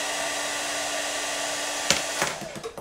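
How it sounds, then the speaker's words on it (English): A hair dryer blowing a column of air at a ping pong ball produces a steady, loud whooshing hum that breaks into a few clattering bumps toward the end. "But look, the hairdryer's not underneath it."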